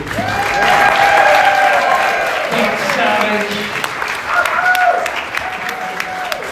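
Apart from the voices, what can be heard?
audience applause for the DJ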